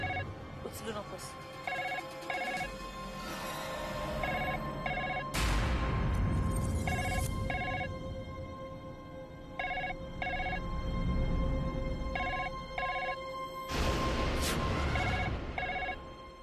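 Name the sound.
telephone ringing indoors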